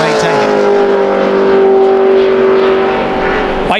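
Chrissy Wallace's NASCAR Nationwide Series car in 2010 qualifying at Talladega Superspeedway, a loud, steady high engine drone holding at speed throughout, with a commentator talking over it.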